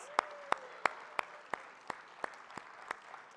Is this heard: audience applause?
yes